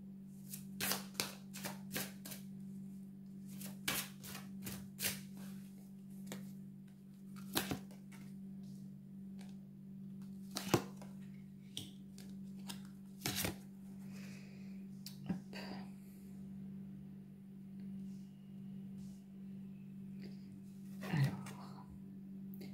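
Oracle cards handled and shuffled at close range, sharp sparse riffles and soft flicks over a steady low hum, with a brief cluster of rapid card snaps near the start.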